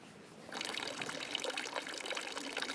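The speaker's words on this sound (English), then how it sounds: "There's no shortage of fountains here" A fountain in Thun, Switzerland splashes and trickles, its water starting up suddenly and then continuing as a steady, close, bubbling patter with no voices.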